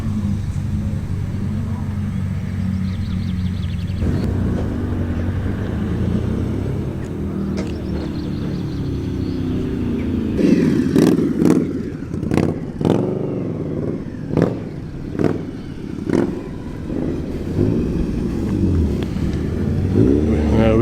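A Mini fitted with a Honda VTEC engine rolls into a car meet, its engine rumbling steadily close by, then a run of sharp revs and crackles stands out over background chatter.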